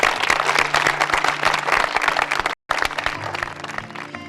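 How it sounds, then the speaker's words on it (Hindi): A crowd applauds loudly and steadily to welcome a minister at a village inauguration ceremony, with dense continuous clapping broken by a brief cut-off before resuming. "मंत्री जी का एक बार जोरदार तालियों के साथ स्वागत करेंगे आप लोग।"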